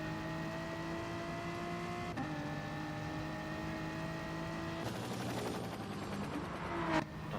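A BMW race car in a racing video game drones steadily with a sustained engine note, then its revs climb harder near the end, moderately loud and without talk over it.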